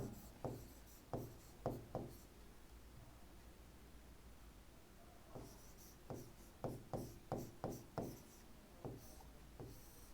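Marker or chalk writing on a board during a history lesson, giving short scratchy stroke bursts in quick clusters with pauses between, fairly quiet, no talking.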